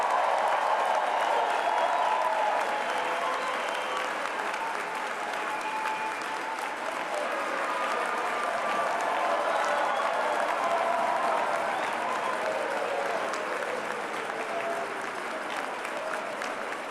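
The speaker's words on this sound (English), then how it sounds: "please join me in one last round of applause for the great class of 2013" Sustained applause from a large commencement crowd honoring the graduating class of 2013 at Colby College's bicentennial-year ceremony, steady broadband clapping with some crowd noise, continuing at an even level throughout.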